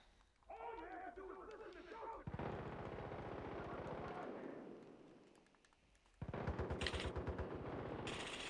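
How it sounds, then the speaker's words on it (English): Heavy machine gun fitted with a flamethrower firing in the video game Far Cry 5, a loud, sustained rapid burst lasting several seconds, pausing briefly and resuming with a heavier surge, mixed with game effects. "Heavy machine gun with a flamethrower."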